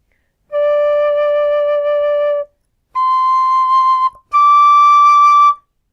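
A gold-plated carbon fiber high D tin whistle plays three clear, sustained notes, each held steadily with short pauses between them, bright and close with no voices.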